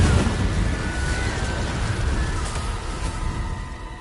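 Fire spell cast in Hogwarts Legacy, a continuous roaring, crackling whoosh of flame with a low rumble, loud and sustained throughout without talk.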